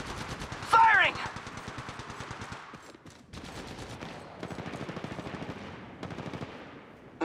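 Rapid automatic gunfire bursts rattle close and loud during an Apex Legends firefight, pausing briefly around three seconds before resuming, with game voice lines calling out over the shooting.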